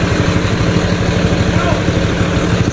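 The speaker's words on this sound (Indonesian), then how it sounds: "Unitnya jalan yang nomor 22 berangkat. Kap mesinnya enggak ditutup." The engine of an SR3 Discovery coach, unit number 22, running as it sets off with the engine hood left open, a loud, steady, close rumble with a rapid low pulse.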